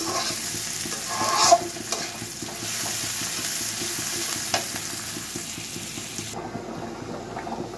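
Plenty of onions frying in a pan give a steady loud sizzle, with a spoon stirring and scraping through it, close and continuous with no talk.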